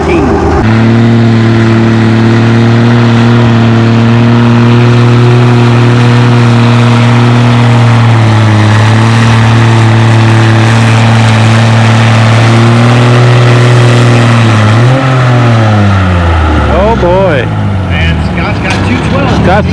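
A pulling tractor's engine roars loudly and continuously at a tractor pull event, holding a steady heavy drone before the pitch slides and winds down near the end, with a commentator talking over it throughout.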